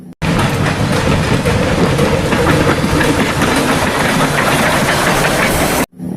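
A toy classic train runs with a loud, continuous mechanical whirring and rattling, steady throughout and stopping abruptly near the end.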